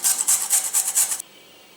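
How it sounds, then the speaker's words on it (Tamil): Beetroot rasped against a grater in about six quick, even strokes, close and crisp, then the scraping stops and only faint room hiss remains. "பீட்ரூட்டை சின்னதாக துருவிட்டோம்."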